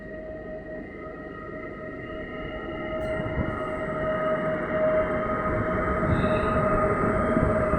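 A train rumbles past Rzeszów Zachodni station in Poland with a steady low roar, a sustained whining tone and metallic squeals rising toward the end, no voices.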